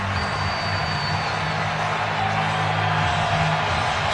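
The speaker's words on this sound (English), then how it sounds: "Crowd gets on its feet here in Cleveland" Baseball stadium crowd in Cleveland cheering during the 8th inning of a Tigers game, a steady, loud roar of many voices filling the space throughout with no break.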